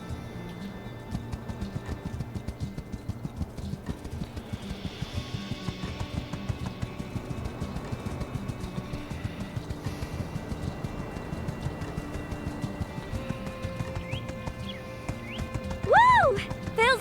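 A horse named Phil gallops with steady, rhythmic clip-clopping hooves throughout, then lets out a loud, close whinny near the end, while a rider talks and urges it on.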